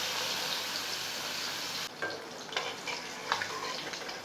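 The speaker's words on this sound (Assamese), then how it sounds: "এইখিনি গৰম হ'লে মাছটো প্ৰথম ফ্ৰাই কৰি ল'ম" Two salted, turmeric-rubbed pieces of local fish fry in hot oil in a wok, giving a loud, bright sizzling hiss. It drops abruptly to a quieter crackle with a few soft clinks of stirring.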